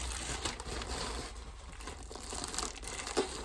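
Plastic packaging around a hoodie from a clothing haul is pulled open and crinkled close by, with steady rustling and a few sharper crackles, no voices.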